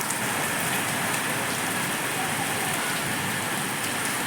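The first summer rain falls steadily in a village, a dense, even hiss of drops pattering on surfaces, loud and continuous with no voices.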